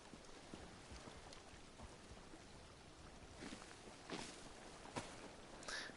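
Steady, faint rainfall patters in The Elder Scrolls Online, a soft continuous hiss of drops with a few louder splashes and light footsteps over it.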